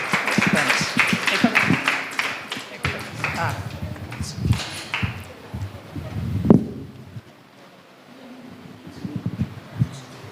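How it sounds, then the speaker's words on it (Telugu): A church congregation at a worship service claps together to welcome a speaker, with a dense run of overlapping hand claps fading out after several seconds, and a voice talking over it. "అందరం చప్పట్లు కొట్టి ఆహ్వానించుదాము"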